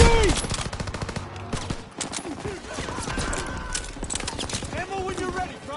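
Rapid machine gun bursts from an MG nest in a WW2 shooter game crackle in dense, rattling strings alongside scattered shots, with shouted voices and action noise over the fire.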